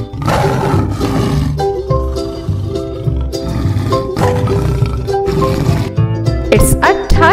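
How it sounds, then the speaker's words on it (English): A tiger lets out deep, loud roars and growls over a musical backing, several surges rising and falling across the stretch, close and forceful. "It's a tiger."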